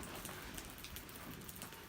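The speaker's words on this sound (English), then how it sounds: "It's really rainy outside now" Rain falls steadily outside beside the Yukon River, a soft, even hiss of drops with no talk, faint and continuous throughout.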